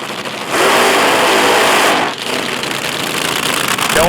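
A top fuel dragster engine fires up at a nighttime drag race, a loud, dense roar that kicks in abruptly, dips briefly, then surges back and holds steady close by.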